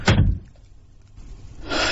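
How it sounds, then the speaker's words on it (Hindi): A door is shut inside a house: a loud thud at the start, then a brief quiet stretch before more noise builds toward the end. "और मैंने दरवाजा बंद कर लिया।"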